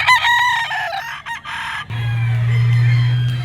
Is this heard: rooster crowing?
yes